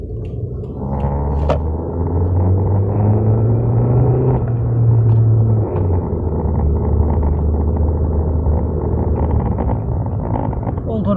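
An older 1998 Toyota Corolla driving with a low, steady engine rumble heard from inside the cabin, a droning tone that rises and falls slightly with road noise throughout.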